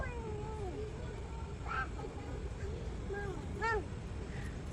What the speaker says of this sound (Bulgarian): Здравейте, котета!